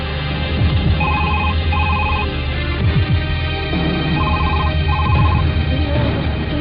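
A telephone rings indoors in a household scene, steady repeated double trills standing out clearly over a continuous noisy background.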